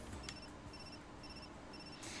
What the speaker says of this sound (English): my phone pinged with another text